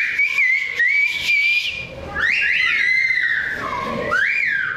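Clear melodic whistling of a whistled language in rising and falling pitch glides, several phrases with short pauses, close and loud with no talking.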